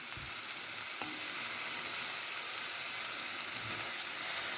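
Fish and vegetables with sour cream sizzling in a frying pan, a steady close hiss of frying throughout with a faint scrape or two of stirring.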